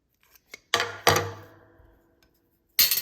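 Several sharp snipping cuts through the other side of a cramp seam, a few crisp clicks followed by ringing, decaying metallic tails, then a final loud cut after a short silence.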